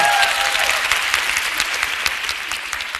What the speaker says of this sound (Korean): 너무 당연한 얘기를 하는데 박수를 치시네요